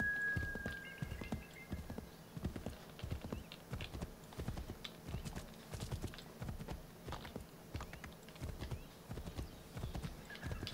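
Horse hooves clip-clop at a steady walking rhythm in Assassin's Creed 3, moderately close and even throughout, with faint game ambience underneath and no talking.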